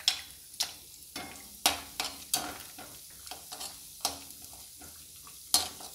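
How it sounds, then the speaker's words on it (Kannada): Cashews frying in a pan for onion chitranna, a soft sizzle broken by repeated sharp scrapes and clicks of stirring, close and fairly quiet, with no voices. "ಗೋಡಂಬಿ ಕೂಡ ಸ್ವಲ್ಪ ಬ್ರೌನ್ ಆಗೋ ತನಕ ಹುರಿದು ಆಮೇಲೆ ಅದನ್ನು ತೆಗೆದಿಟ್ಕೊಂಡ್ಬಿಡೋಣ."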